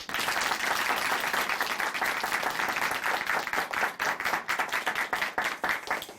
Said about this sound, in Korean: 다시 한번 큰 박수 보내드리겠습니다